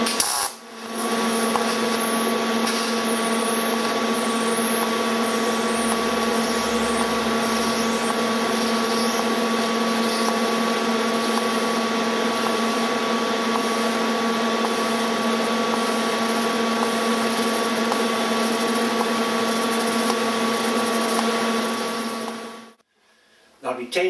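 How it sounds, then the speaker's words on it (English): R-Tech AC/DC inverter TIG welder running pulsed current on a simple lap joint, a steady close buzzing hum with a constant electrical tone that holds for most of the time, then cuts out abruptly near the end. "This is a simple lap joint that I'm going to weld with pulse."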